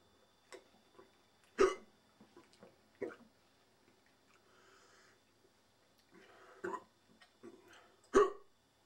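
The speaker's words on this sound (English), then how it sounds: "Quite intense hiccups." Intense hiccups, a handful of sharp isolated gulps at uneven intervals, close and fairly quiet against a near-silent room.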